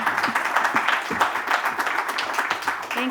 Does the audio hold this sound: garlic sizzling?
no